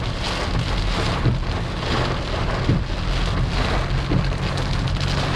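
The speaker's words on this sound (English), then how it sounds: "Not a heavy rain." Steady light rain falls during a Florida thunderstorm in West Palm Beach, a dense continuous hiss of drops on surfaces with a low rumble underneath and no voices.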